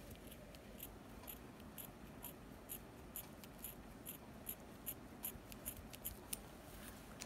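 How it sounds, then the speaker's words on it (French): Scissors snip through clothes in a series of quiet, closely spaced cuts, a faint crisp snipping that grows a little more frequent and pronounced toward the end, over soft background noise. "je vais essayer de couper ces habits"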